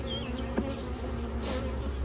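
Honey bees buzzing at an open beehive during an outdoor beekeeping demonstration in Walker County, a steady close drone with individual bees flying past.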